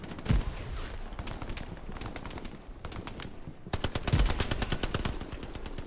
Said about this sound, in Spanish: MG de la casa afuera.